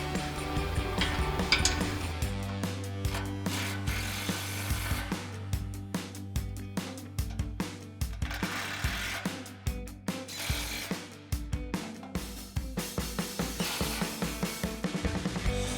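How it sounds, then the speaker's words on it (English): Repeated ratcheting and tool clicks from a 6mm Allen head socket tightening four accessory bar bolts on an AR Pre-Runner grille guard fitted to a 2020-2026 Silverado 2500, steady close rhythmic bursts with no talk. "Now we're going to tighten down our 4 accessory bar bolts with our 6mm Allen head socket."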